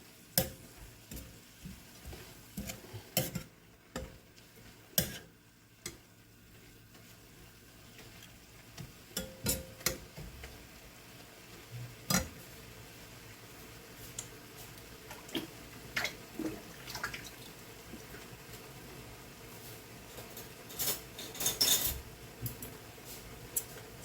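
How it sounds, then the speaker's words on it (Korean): Garlic sizzles in a pan: a quiet, steady frying hiss under scattered clicks and taps of stirring, close by and without talk. "마늘 넣어서 마늘 향이 싹 퍼지도록 지글지글"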